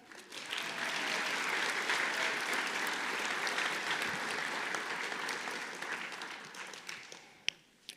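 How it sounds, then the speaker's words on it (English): Graduation ceremony crowd at Mica Peak High School claps for the school staff, a full, dense round of applause holding steady before fading out with a few last isolated claps. "Let's give a round of applause to the staff."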